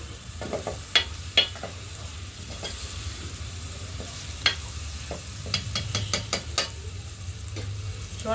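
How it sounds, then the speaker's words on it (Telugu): Raw prawns and raw mango pieces fry in a pan over a wood fire, a steady low sizzle broken by sharp clinks and scrapes of a spoon stirring, with no talking. "రొయ్యలు కూడా అయిపోయి ఇప్పుడు ఈ మామిడికాయ ముక్కలు వేసుకుందాం"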